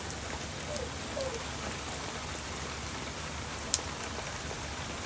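Steady rain falls outdoors, a dense even patter of drops on surfaces that holds at a constant level throughout, with one sharp brief click partway through and no voices.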